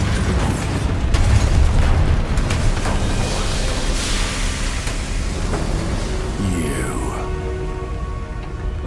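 A Bombarda spell explosion in Hogwarts Legacy bursts with a loud booming blast and rumbling debris, followed by crackling and scattered impacts, dense and close for several seconds.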